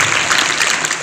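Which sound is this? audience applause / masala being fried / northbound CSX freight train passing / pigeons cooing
audience applause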